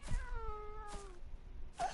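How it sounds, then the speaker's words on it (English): A cat in Minecraft Bedrock Edition gives a short meow with a falling tone, followed by a second brief meow near the end, quiet and alone over faint background. "Did I just hear the cat up there?"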